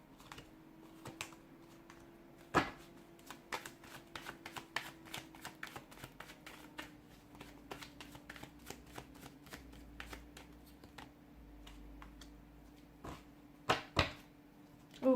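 A deck of tarot cards being shuffled: quiet, rapid riffling and flicking of cards in irregular bursts, with a few sharper slaps near the end and a low steady hum underneath, no talking.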